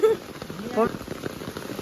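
Heavy rain pours steadily throughout in a village during a crab hunt, a dense, even hiss of drops striking surfaces, with a couple of brief voice fragments rising above the downpour.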